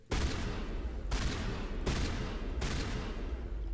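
Loud automatic gunfire from the video game Mass Effect Legendary Edition, four sharp bursts in quick succession, each launching into sustained rattling fire.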